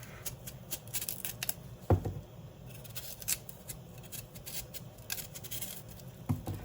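A knife scrapes and shaves the skin off a yam in a kitchen, a quiet run of close, irregular scratchy strokes with a few sharper knocks.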